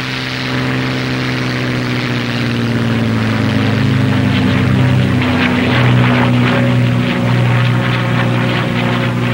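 A P-51 Mustang propeller fighter plane taking off, its piston engine giving a steady loud droning roar with strong low harmonic tones and a slight rise in intensity, continuous throughout with no talking.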